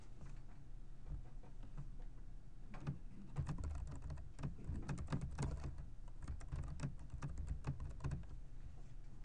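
Steady typing on a computer keyboard while code is entered during a programming lecture, with fast continuous key clicks over a constant low room hum and no speech.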